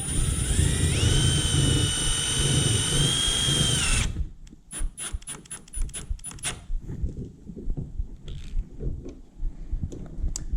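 A power drill whines steadily for several seconds driving screws into a kayak without pre-drilled holes, then stops, followed by quieter knocks, clicks and short mechanical rattles.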